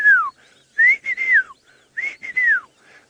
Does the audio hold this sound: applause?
no